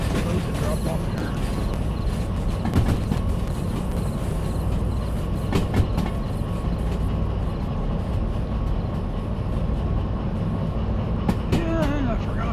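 A train with a caboose rumbles along in the DV Sim rail simulator, a dense continuous low roar with clanks and squeals throughout, and someone talks over it.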